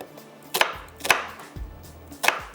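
A knife chopping a small onion on a board, four crisp separate chops spaced about half a second apart, close and clear with no talking.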